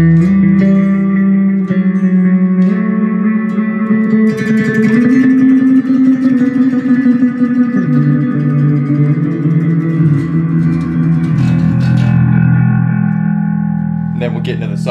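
Bass guitar played through effects pedals sounds as sustained low notes with shifting pitch, thick with distortion, echo and reverb, ringing loud and continuous with sliding changes between held tones.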